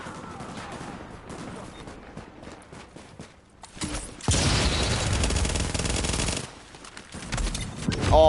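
Shotgun fire in the Dark Zone of The Division: a dense run of loud shots and impacts bursts in after a quieter stretch of scattered game sounds, with more firing building again near the end.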